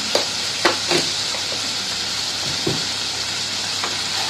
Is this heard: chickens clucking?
no